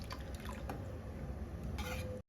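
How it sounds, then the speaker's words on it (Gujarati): Milk bubbles and simmers in a pot for vermicelli kheer, a brief, faint, continuous burbling with a soft liquid texture and no voices. "હવે બરાબર આપણે દૂધને ઉકળવા દઈશું"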